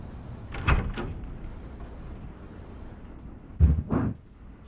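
A sliding door moves in two short bursts, one early and one near the end, each a quick rumbling slide at close range, separated by quiet room tone.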